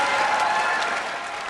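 An audience applauds Steve Jobs as he is welcomed on stage from Apple Computer: dense, steady clapping that fills the whole moment and eases slightly toward the end.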